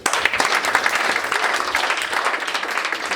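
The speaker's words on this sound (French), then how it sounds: "Et ça, encore, il faut applaudir." At a Cameroonian community year-end celebration in Mechanicsburg, a room of people applauds with brisk, dense clapping that stays loud and even from start to finish.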